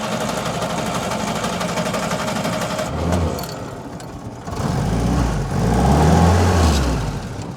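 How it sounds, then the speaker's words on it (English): WW2 Willys Jeep engine with carburettor trouble, cranking with a rapid rhythmic churn, then catching and settling into a rough idle that swells twice as it picks up, heard close. "I'm now going to fire it up just so you can see what it's like."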